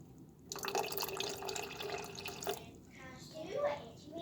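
Milk splashed into an oats mixture, a brief liquid pour and slosh lasting about two seconds, fairly close and soft, followed by faint wet stirring and room noise.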